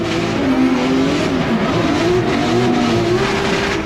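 A drift car screams on high revs through a competition run's final corner, the engine note wavering loudly and continuously over a hiss of sliding, skidding tyres.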